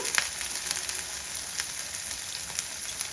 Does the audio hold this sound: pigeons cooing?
no